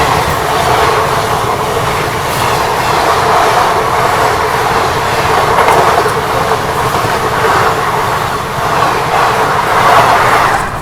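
The Katihar–Mumbai special train passes alongside on the adjacent track, a steady, loud rumble of rolling railcars with rhythmic clickety-clack of wheels over rail joints sustained throughout, with no talk.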